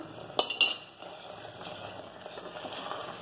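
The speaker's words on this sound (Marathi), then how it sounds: "आता मी त्याला हलवते एकदा" Bottle gourd halva being stirred in a pan with ghee, a couple of sharp metallic clinks near the start followed by soft, steady scraping and shuffling at close range.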